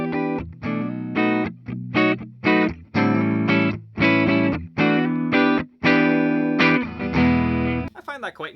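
A Gibson ES-Supreme electric guitar played through its neck pickup, with a run of loud strummed chords in a steady, choppy rhythm, each ringing briefly before the next, followed by a short burst of talk at the end.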